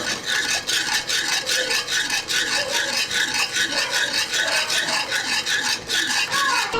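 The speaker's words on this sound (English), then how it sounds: "You want to add your broth a little bit at a time and stir as you add it." A spoon scrapes and rubs rhythmically against a pan while broth is stirred in, a steady rasping stroke repeating quickly and closely with no talk over it.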